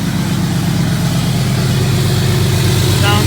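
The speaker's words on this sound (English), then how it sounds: "Getting the truck all warmed up" A truck engine warms up after sitting unused for about a week. It idles with a loud, steady low rumble and an even pulsing throb, and rises slightly near the end.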